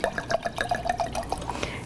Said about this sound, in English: take a good bottle of white wine, open it, pour it out, and take a sip